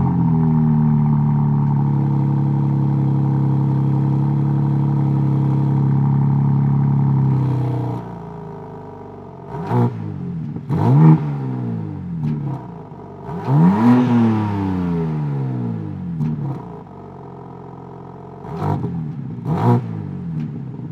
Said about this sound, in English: I'm gonna go ahead and turn on the car so you guys can hear how it sounds